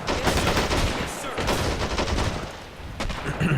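A Johnson machine gun rattles off rapid bursts in the video game Men of War: Assault Squad 2, dense and loud amid other battlefield fire, with someone talking over it.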